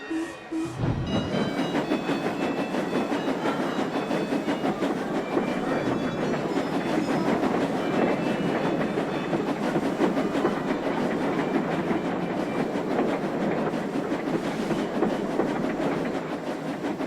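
Steam passenger trains in a Roblox game pull out, a steady rolling rumble with clickety-clack wheel beats running continuously and fairly close, no voices.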